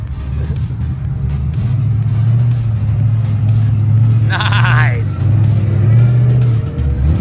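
A car engine rumbles and revs loudly through its aftermarket muffler with a deep, throaty exhaust note, swelling in bursts while people cheer and talk nearby.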